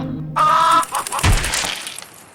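A chicken gives a short, loud clucking squawk nearby, followed by a few scuffling knocks, all within a couple of seconds.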